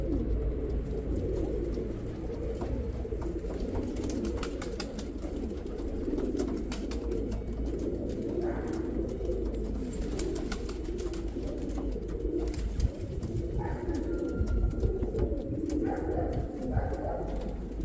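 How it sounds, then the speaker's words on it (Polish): Pigeons in a loft in Radom coo repeatedly, their soft, low, rolling calls overlapping at close range with faint background rustling. "Niech gołębie będą przegłodzone"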